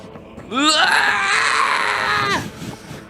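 A person imitates a scream: one loud, sustained wailing cry about two seconds long, rising sharply at the start and breaking off at the end, heard close and alone.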